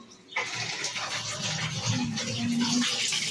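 A tap switches on abruptly and water gushes steadily into the tub of a Godrej 8 kg semi-automatic washing machine, a loud continuous rushing splash close by.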